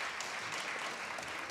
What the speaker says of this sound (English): So please give them a round of applause for their hard work.